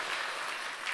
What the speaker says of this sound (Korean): 한번 박수 한번 하시죠